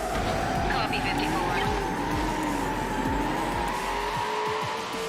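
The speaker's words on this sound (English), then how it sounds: "this beautiful V12 absolutely screaming at us to go faster" A McLaren F1's V12 engine wails at high revs while racing in Need for Speed Hot Pursuit 2, a steady loud tone that rises and falls, with tyre squeal and a voice talking over it throughout.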